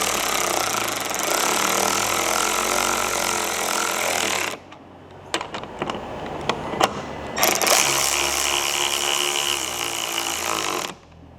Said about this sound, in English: a light power tool to secure these down